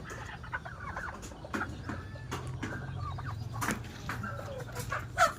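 Farmyard chickens cluck and murmur steadily at close range, several birds overlapping in short clucks and calls over a low hum, with a louder squawk near the end and no one talking.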